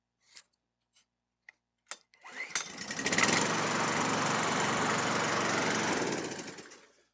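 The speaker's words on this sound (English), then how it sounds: "you hold it in, pull the engine, and it will basically start." A Husqvarna Klippo LB 553SQe mulching lawn mower is pull-started after a few rope tugs, catching and settling into a steady loud engine drone close by, then beginning to fade near the end.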